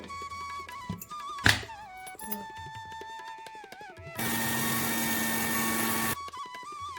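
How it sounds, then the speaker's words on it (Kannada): A kitchen mixer grinder grinding turmeric whirs loudly for about two seconds after some clattering and a sharp thunk, then stops abruptly. "ಜರಡಿ ಮೇಲಿರುವ ಅರಿಶಿಣವನ್ನು ಮತ್ತೆ ಮಿಕ್ಸಿಗೆ ಹಾಕಿ ಪುಡಿ ಮಾಡಬೇಕು"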